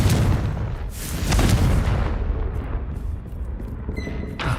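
The Confringo explosive spell goes off in the video game Hogwarts Legacy as loud, rumbling booms, with a second heavy blast about a second in that trails into a fading crackle and faint chimes.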